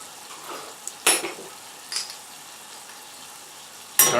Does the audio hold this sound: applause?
no